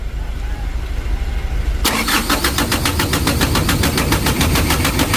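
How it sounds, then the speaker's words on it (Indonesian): A motorcycle engine with a newly replaced carburetor plunger is cranked on the electric starter and catches, settling into a loud, steady, rhythmic idle up close. "Kita tes lah di starter."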